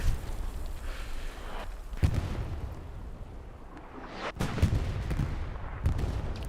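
Explosions and gunfire from the World War II shooter game Hell Let Loose, set in Foy at night, boom in heavy blasts against a rumbling battlefield backdrop with scattered shots.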